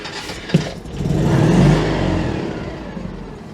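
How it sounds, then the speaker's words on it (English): A worn-out Citroen 2CV engine in neutral gives a sharp blip, then revs up and settles back toward idle, close and loud, with no speech. "The engine is clearly not in great shape"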